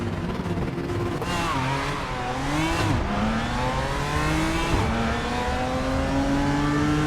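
Multiclass BMW race cars in the RaceRoom video game pulling away from a race start onto a long straight. Several engines rev up together with rising, overlapping whines that climb through the gears, loud and continuous.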